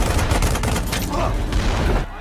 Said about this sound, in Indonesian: bantuan tank itu pun tiba yang langsung menembaki pasukan Vietnam Utara